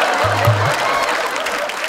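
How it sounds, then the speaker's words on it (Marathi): A studio audience at a Marathi comedy show claps loudly and continuously in a dense wash of applause, with a low hum briefly underneath. "एकदा जोरदार टाळ्या माझ्यासाठी झाल्या पाहिजे"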